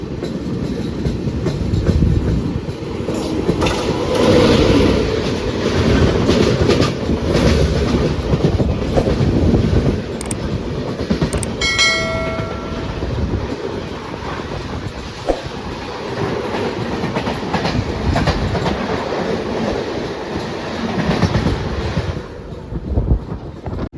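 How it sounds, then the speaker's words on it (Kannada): A train rumbles past close by near Jhansi Junction with steady clattering wheels and rushing wind noise, a brief horn-like tone sounding midway, no talking. "ಕ್ರಾಸಿಂಗ್ ಆಗತ್ತೈತೆ ನೋಡ್ರಿ ಟ್ರೈನ್"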